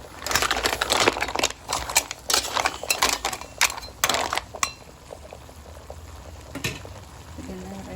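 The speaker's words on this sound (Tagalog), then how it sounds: "natin lagyan ng water. Yung water mo. Isang baso lang talaga." Water poured into a pan of sautéed mussels and chayote, splashing and sizzling loudly at first with clinks of a utensil against the pan, then settling into a quieter steady simmer with occasional taps.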